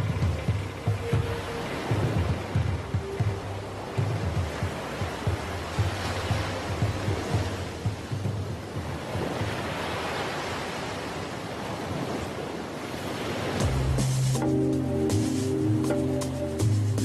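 Ocean surf rolls and breaks steadily against a rusting shipwreck off the Cap Bon coast of Tunisia, a continuous broad wash of water with a tonal drone entering near the end.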